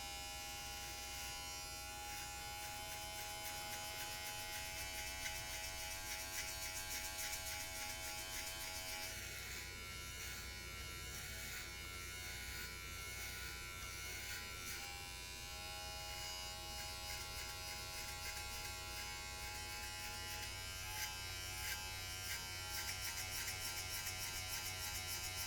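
Electric hair clippers fitted with a number 1 guard, lever open, cutting hair in a buzz cut, giving a steady close-up motor buzz that runs unbroken throughout with no talking.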